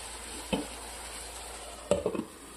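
Shrimp roast being stirred in a pan, with two short bursts of spoon scraping and a soft sizzle under a steady frying hiss, close and fairly quiet.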